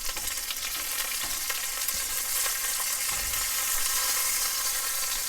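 Chicken sizzles steadily in a hot frying pan with a dense, close crackle of oil, broken by a few soft knocks as the pieces are flipped; no one speaks.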